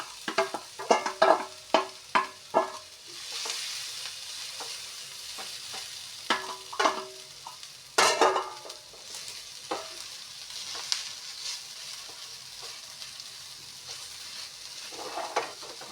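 Fried chowmein noodles with turmeric stir-mixed in a pan, a run of rhythmic spatula scrapes and clacks over a soft continuous sizzle, then quieter frying with occasional knocks, close and without talking.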